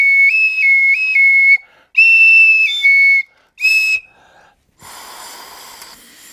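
A toy whistle blown in several shrill bursts, its pitch warbling up and down, with pauses between, followed by a breathy airy blow at the end.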